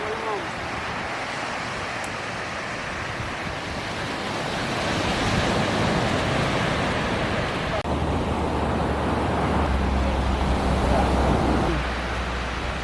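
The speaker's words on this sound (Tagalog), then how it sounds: "Can you hear the waves?" Ocean surf rolling onto the shore at Baler, Aurora, a steady broadband wash that swells midway, mixed with wind buffeting the microphone.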